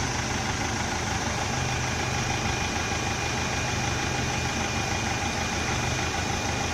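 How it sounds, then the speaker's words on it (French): Land Rover engine idling while its engine is cleaned with hydrogen decarbonising, a continuous, steady mechanical drone with a low rumble and hum, loud and unbroken throughout with no talking. "Le moteur du véhicule qu'on nettoie fait plus de bruit que le groupe électrogène."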